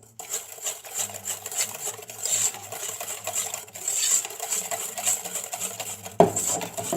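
A whisk clinks steadily against a bowl while egg, sugar, cornstarch and part of the milk are mixed for a pastry cream. The rapid, close tapping continues throughout, ending with a sharper knock.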